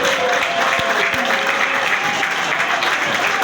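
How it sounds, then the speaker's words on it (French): Audience applause at the closing session of a five-day political commission meeting of the UDPS Tshisekedi party, a dense, steady wash of clapping that stays loud and continuous throughout with no voices breaking through. "Vous devez vous applaudir."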